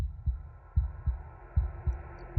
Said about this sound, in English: I hear a thump. Ooh, that is a heartbeat.